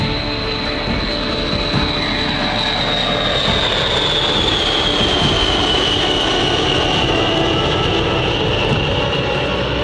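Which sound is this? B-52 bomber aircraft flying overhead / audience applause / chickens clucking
B-52 bomber aircraft flying overhead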